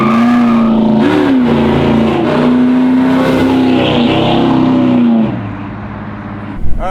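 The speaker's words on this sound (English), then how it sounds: "here we go for a cruise in my friend Nino's 66 Nova" A 1966 Chevy Nova's engine rumbles loud and close with a steady low drone, swells briefly, then drops off as the car pulls away. No talk is heard.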